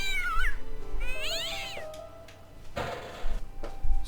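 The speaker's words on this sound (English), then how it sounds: "Oh, is that cat back?" Cat meowing in the video game Broken Sword: two drawn-out, rising and falling meows over a low game ambience, followed by a softer noisy rustle and a couple of dull thumps.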